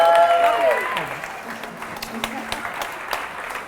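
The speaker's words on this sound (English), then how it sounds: "Let's clap it up for the banana." A studio audience applauds briefly for a banana-eating moment, with whistling or tonal sounds at the start. The clapping fades quickly under a voice.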